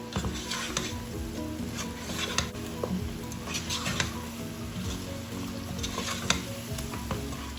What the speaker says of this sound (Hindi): इसको तकरीबन मैं 5 मिनट के लिए भूनूंगी।